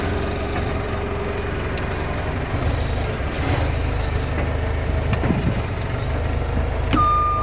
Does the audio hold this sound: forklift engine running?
yes